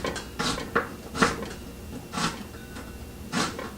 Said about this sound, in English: I have a little onion here. Some dicing. And I'm going to cut this here.